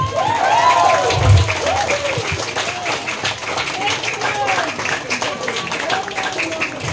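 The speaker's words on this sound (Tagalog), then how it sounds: "Yung pong palakpak niyan may bonus kay Lord" A church congregation breaks into steady applause, a dense wash of many hands clapping together under a preacher's amplified voice, with a brief low thump near the start.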